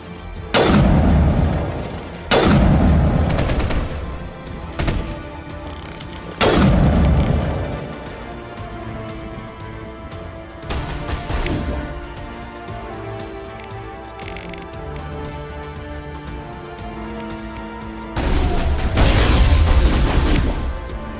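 Gunfire and orbital strike explosions in the video game Mass Effect Legendary Edition: heavy booming blasts every few seconds with rumbling decays, loud and close, alongside sporadic shots and a long final roar.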